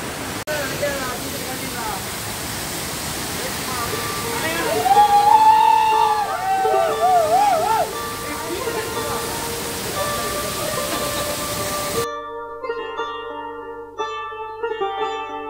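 Water pours loudly and continuously at Njandirukki waterfall, a close steady roar with chirping birds rising above it midway.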